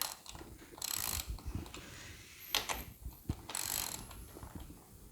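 A wrench ratchets while tightening a loose crank on a bicycle's bottom bracket with a 14 mm socket key, giving bursts of clicking and metallic mechanism noise in short repeated strokes, close up.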